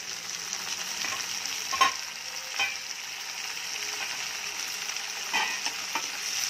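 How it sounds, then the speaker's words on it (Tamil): Tomatoes, onion, garlic and curry leaves sauté in a pan for a taro-root kara kuzhambu, a steady close sizzle with a few soft spoon scrapes and stirs, no talking. "இப்போ எல்லாம் நல்லா தக்காளி வெங்காயம் பூண்டு கருவேப்பிலை எல்லாம் நல்லா வதங்கணும்."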